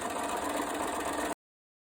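A sewing machine stitches a seam on a school dress, giving a brief close-up steady motor whir with rapid needle chatter that cuts off abruptly.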